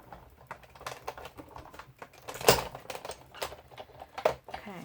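A manual die-cut machine cranked by hand as a card base with a die is fed through, giving quiet, close mechanical clicking and ratcheting in an irregular rhythm, with one louder snap midway.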